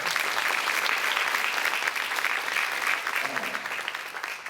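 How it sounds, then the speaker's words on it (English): A crowd at an FFA banquet gives a steady round of applause, a dense, even clapping wash that holds throughout and eases slightly near the end. "Would you guys give them one more round of applause?"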